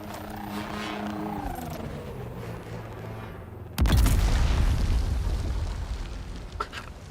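A grenade detonates in the video game Dune Awakening, a sudden heavy boom that rumbles and decays over a few seconds after a quieter stretch of ambient game sound.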